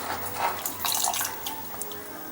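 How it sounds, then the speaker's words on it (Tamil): Fresh cauliflower florets rinsed in plain water under a running kitchen tap: a steady splashing, gurgling flow with brighter bursts of splatter, close and continuous throughout. "இப்போ நம்ம பச்சை தண்ணியில் ஒரு டைம் வாஷ் பண்ணிட்டேங்க."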